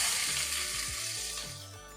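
Fennel seeds and sliced onion frying in oil in a pan for mutton kulambu, a steady loud hissing sizzle that fades slightly over a couple of seconds.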